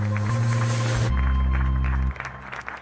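Crowd applause rises at a parade on Place de la Concorde as medical workers march past the head of state, steady clapping heard under loud broadcast tones and other sound that drop away partway through.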